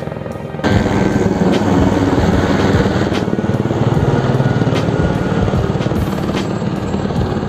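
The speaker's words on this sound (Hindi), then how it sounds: "तो मेरे पीछे आवाज़ आ रही है हेलीकॉप्टर की आने की।" A helicopter arrives at a helipad at Katra near the Vaishno Devi shrine, its loud, steady rotor thump starting abruptly and holding close and continuous, with rhythmic blade chop throughout.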